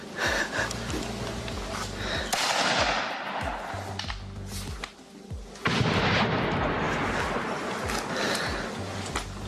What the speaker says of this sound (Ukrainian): а ось працює російська артилерія з території Росії